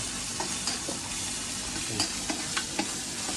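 Pork and holy basil (kaphrao) stir-fried in a hot pan, with a steady sizzle broken by repeated scraping and clinking strokes of the spatula, close and fairly loud.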